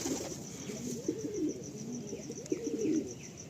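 Pigeons in a loft coo in soft, overlapping low phrases throughout, with a steady faint high chirping in the background and a few brief knocks.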